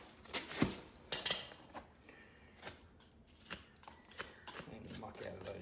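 Hoof nippers snip the bars off a young horse's hoof, giving sharp, faint clipping and scraping sounds in short irregular bursts, with a person talking quietly alongside.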